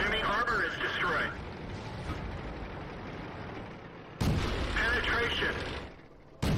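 A tank cannon shell punching through enemy armor in World of Tanks, booming cannon reports and impact crunches at the start and again past the four second mark, with game voice callouts over them.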